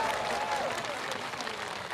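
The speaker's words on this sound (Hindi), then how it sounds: "जरा आखिरी तक राष्ट्रीय अध्यक्ष के सम्मान में तालियां बजना चाहिए, आखिरी तक जोरदारी के साथ" A crowd at a political gathering in Khaniyadhana claps steadily in honour of a national party president, a dense, sustained ovation with many hands, moderately loud and without speech.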